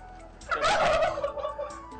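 A turkey on a poultry farm lets out one loud, close, bubbling gobble that rises sharply and trails off, alone with no talk.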